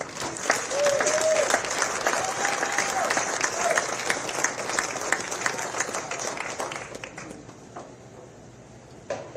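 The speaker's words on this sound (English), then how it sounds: "Let's give them a well-deserved round of applause." A crowd claps and cheers loudly at an amateur golf championship at Pinehurst No. 2, the applause gradually thinning and fading toward the end, with a voice briefly audible early on.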